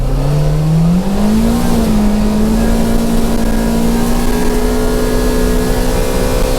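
A farm tractor's engine drones loud and steady at close range while it drives between fields in two-wheel drive. Its pitch rises and then holds even throughout.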